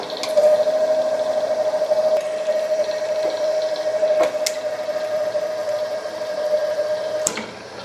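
A shop machine cuts threads onto a 1/2 inch rod with a 1/2 inch die, producing a steady motor whine with a constant tone, wet grinding and squishing texture, and a few sharp clicks, running alone for several seconds before tapering off.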